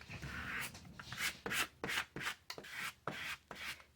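A scraper rubs back and forth over paper and cardstock for a craft project, producing close, rhythmic scratchy strokes, about eight in quick succession with short gaps between them.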